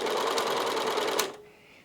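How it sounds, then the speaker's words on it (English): An overlocker serger stitching with black thread runs as a steady, fast mechanical whir for just over a second, then stops abruptly, leaving a faint high hum. "There were just a couple of noises happened there, and that was black threads going through bits and pieces."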